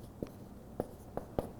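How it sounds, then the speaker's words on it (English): Notes being written by hand, heard as four brief, soft scratching strokes spaced irregularly, close and quiet against a faint room background. "So we're gonna write that part down too."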